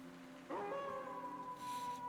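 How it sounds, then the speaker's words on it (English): A wolf howl from the werewolf game Werewolf: The Apocalypse – Heart of the Forest: one long, rising then sustained howl with layered harmonics, entering abruptly after a quiet start and holding steady to the end, with no talk over it. "Then she howled."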